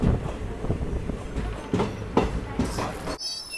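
The Guntur–Rayagada express stands at Gajapathinagaram station, a low rumble with a few rhythmic rail clacks under the running noise, ending in a thin high tone as the sound drops away.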